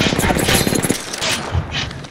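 Rapid automatic gunfire from the battle royale video game Apex Legends, a loud, dense rattle of close shots that thins out toward the end.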